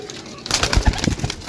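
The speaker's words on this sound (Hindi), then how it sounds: "बहुत अच्छे कबूतर हैं" Pigeons coo in a short burst of low throaty calls, close by, with faint rustling around them.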